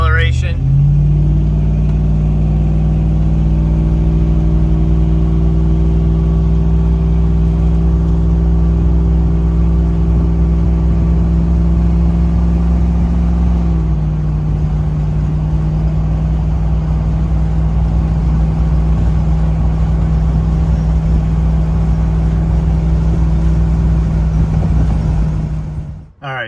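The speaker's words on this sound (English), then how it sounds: "Medium acceleration." An LS-swapped OBS Ford Bronco making a medium acceleration run, its V8 droning loud and steady from inside, with one gear change midway before the engine winds down at the end.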